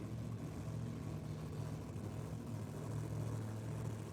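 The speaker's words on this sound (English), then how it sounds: "Listen to this supercharged action." A steady, heavy engine drone with a rumbling low throb from a supercharged drag racing car, continuous and fairly close, idling or revving at a drag strip.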